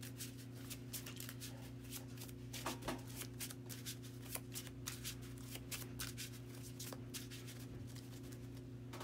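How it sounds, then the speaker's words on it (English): Cards from a Marvel Champions deck being shuffled, a steady run of soft riffling clicks and flutters heard close but faint over a quiet background hum, with no talking. "The deck is shuffling"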